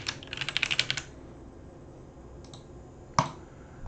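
Quick burst of computer keyboard typing as a password is entered, about a dozen crisp keystrokes in the first second, then quiet with a couple of isolated clicks.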